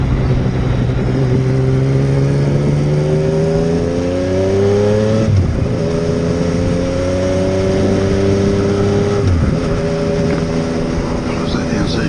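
A motorcycle carrying a smart brake module rides along a road, its engine droning steadily and rising in pitch through the gears, dropping at each shift twice, loud and close with constant wind rush.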